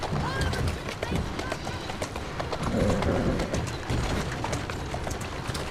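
Horse hooves clip-clop at a walking pace in the Assassin's Creed Syndicate video game, steady close footfalls under a rider's speech and game ambience.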